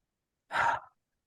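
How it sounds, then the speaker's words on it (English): A single big, deep breath is audible, one breathy inhale-exhale of under half a second, close to the microphone and in otherwise near silence. "So take a big, deep breath with me."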